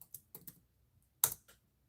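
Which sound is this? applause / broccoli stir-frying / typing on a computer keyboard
typing on a computer keyboard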